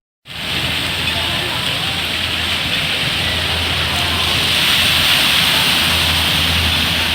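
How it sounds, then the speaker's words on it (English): Water pours and splashes steadily in a water park's kiddie splash area with a dump bucket, a dense, loud, continuous rush that starts abruptly and swells slightly toward the end. "That's a splash area."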